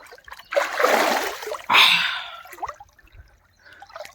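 Two loud, close water splashes a second apart as a person goes into a swimming pool, each a broad rushing burst that dies away into faint drips and quiet.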